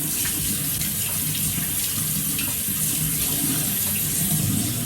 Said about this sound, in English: Go in with my lukewarm water again and rinse this all out.